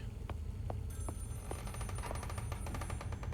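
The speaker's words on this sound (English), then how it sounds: "Though I do hear a phone." Telephone ringing in the horror game Maid of Sker, a repeated electronic ring sounding at a steady rhythm over a dense, droning game ambience, moderately loud with no talk over it.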